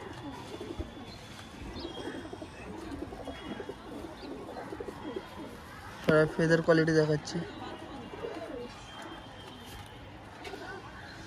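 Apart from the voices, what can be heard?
pigeons cooing in shop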